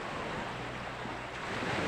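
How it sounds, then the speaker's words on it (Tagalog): Calm sea at the shore of Sitio Recudo breaks softly, a faint continuous wash of small waves with light wind across the microphone and no voices. "nandito naman tayo sa karagatan at ating tinitingnan ang karagatan"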